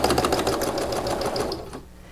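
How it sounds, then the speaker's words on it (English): A sewing machine runs steadily, stitching a half-inch seam down the side of a fleece hat, starting with a short back stitch. The even motor whir and rapid needle clatter hold for about two seconds, then cut off. "First I start with a quick back stitch"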